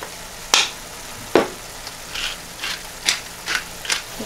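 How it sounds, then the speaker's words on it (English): Ground meat for a cottage pie frying in its own fat in a pan, with a soft sizzle under a series of sharp scraping and stirring strokes, about eight distinct hits spaced irregularly, close and clear with no talking. "I'm just going to leave it and let the meat fry up a little bit in its own fat"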